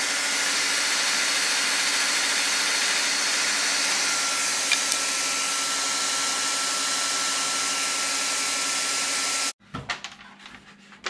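Game Changer fans on a Mojave 8s 1250kv motor give a loud, steady broadband whoosh like a strong vacuum, running continuously for about nine seconds before cutting off abruptly into quieter handling noise.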